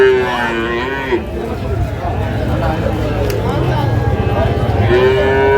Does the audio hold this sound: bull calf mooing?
yes